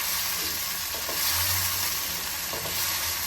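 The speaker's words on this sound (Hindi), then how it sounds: "अरबियों के साथ हम इसको 1 से 2 मिनट अच्छी तरीके से भूनेंगे।" Arbi (taro) pieces frying with masala in a hot pan, a continuous close sizzle with occasional soft scraping strokes of stirring and no voices.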